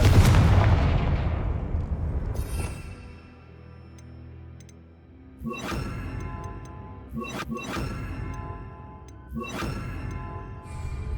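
Confringo blasting spells going off in the Hogwarts Legacy video game: a heavy opening boom that decays, then a quieter stretch followed by three sharp, crackling explosive bursts spaced a couple of seconds apart.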